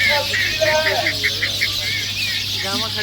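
Recorded duck calls played from behind decoy ducks floating on water during a hunt: a repeated run of nasal quacks and honks with a steady noisy hum underneath.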